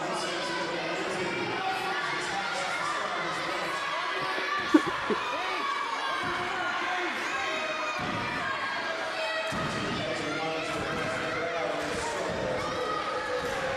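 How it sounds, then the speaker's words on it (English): A loud crowd at a TCW title ladder wrestling match roars and murmurs steadily throughout, with a few thuds breaking through and a voice talking over it. "Very loud crowd for where they are"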